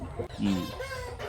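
Chicks and chickens of a quality breed cluck and peep in short, close calls, with a voice talking over them.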